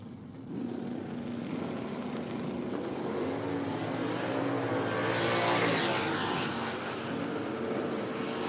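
A 1964 Chevelle big-block drag car roars down the strip at a raceway, engine noise rising and sweeping past with a building, sustained rumble and no voices.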